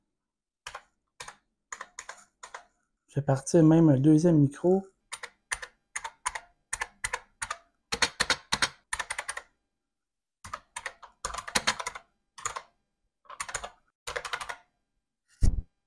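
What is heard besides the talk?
heavy mechanical computer keyboard keys being typed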